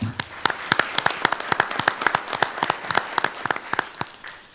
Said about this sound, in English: let's just give them all another round of applause.